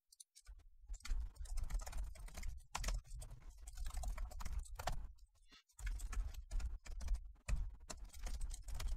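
Code is typed on a computer keyboard in quick irregular bursts of close, crisp key clicks with short pauses between runs, continuing for several seconds with no voice over it.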